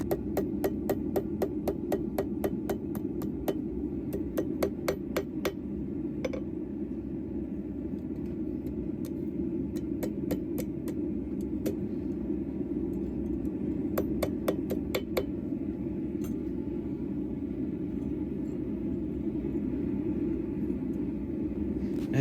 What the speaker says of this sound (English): I'm going to start forging it the other way, so that I can start putting in yet another curl into it